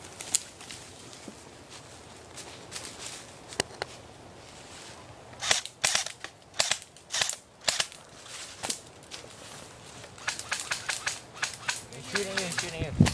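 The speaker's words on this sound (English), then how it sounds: "He's shooting you" Airsoft guns firing during an outdoor game, scattered sharp cracking shots near and far, some in quick clusters, with people talking and movement around them.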